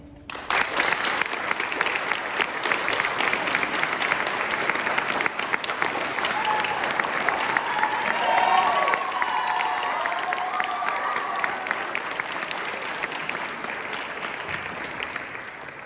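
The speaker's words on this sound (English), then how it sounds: "Thank you for that applause" A graduation commencement crowd gives sustained loud applause for the student-selected faculty speaker, with scattered cheers and a few raised voices mixed into the dense clapping before it slowly tapers.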